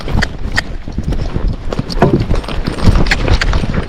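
A Tennessee Walking Horse canters nearby, its hooves thudding in a loud, rhythmic repeated beat over a steady outdoor background, with no clear talk.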